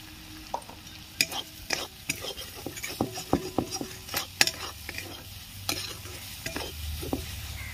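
Ground garam masala with a pinch of sugar stir-fried in a pan for a dhaba-style egg tadka: repeated sharp spatula scrapes and clinks over a steady close sizzle, with no voices.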